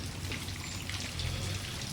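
Steady rain pours down outdoors over flooded paddy fields, a dense, even hiss of drops lasting throughout with no voices.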